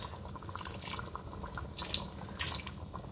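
Water is poured into a simmering peanut sauce for oxtail, giving a faint, soft running trickle with a few light splashes and no talking.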